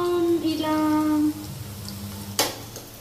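Onions sizzle and fry in a pan for mutton kheema, a bright crackling hiss that softens after a second, then a short clatter of a utensil against the pan.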